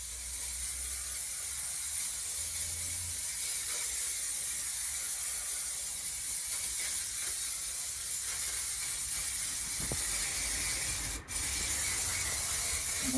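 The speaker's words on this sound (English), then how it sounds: "a bit of spray adhesive" Steady, close hissing of an aerosol spray adhesive that runs almost without a break, with a brief pause near the end.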